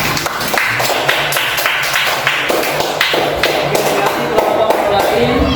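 Classroom applause in an Islamic religious education teaching session: a run of loud, sharp, evenly spaced claps, close and rhythmic, with a voice talking now and then.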